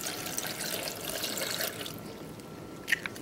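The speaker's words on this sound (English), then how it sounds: "Adding about a half a cup of water." About half a cup of water poured into a blender for a carrot smoothie, a soft steady splashing trickle that runs for a couple of seconds, then fades, with a small clink near the end.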